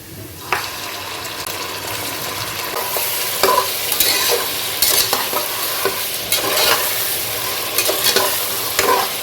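Mutton hits a pan of fried onions and sizzles steadily, with repeated scraping stirs clattering in rhythm over the continuous frying hiss, close and fairly loud.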